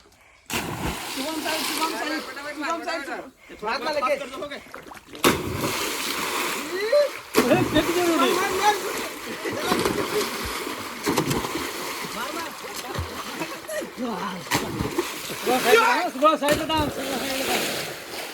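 Repeated heavy splashes as people jump into a village well in the rain, separated by short pauses, with excited voices talking and shouting throughout.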